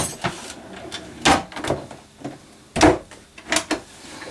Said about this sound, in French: Et ici 2 tiroirs avec les couverts.